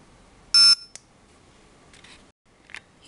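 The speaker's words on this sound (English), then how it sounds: "press and hold it until the red light comes on and you hear a beep" An Aetertek AT-218S remote dog training collar receiver gives a single short, loud, high-pitched power-on beep, followed by faint clicks and handling noises close to the microphone.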